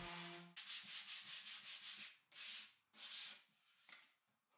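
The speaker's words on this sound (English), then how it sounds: "I can sand the edges of the box just to flush everything up" Hand sanding along the edges of a pallet wood box with dovetail joints, a quick run of rhythmic rubbing strokes followed by a few slower, separate passes, close and clear.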